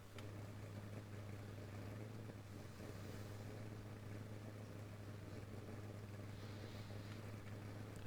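A car with a giant cam running with no exhaust, the open X-pipe ends letting it idle at a loud, steady low drone throughout, with no revving.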